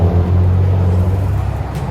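A tuned Audi S4 drives off with a loud, low exhaust rumble and a deep steady drone that eases slightly toward the end, close by with traffic noise around it.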